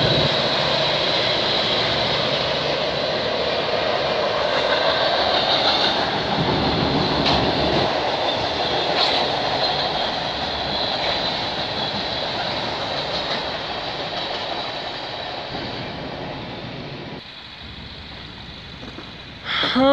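A CN freight train led by a GATX car with auto frame cars rumbles steadily past at close range in Milton, Ontario, a loud continuous roar and rattle that fades slightly near the end.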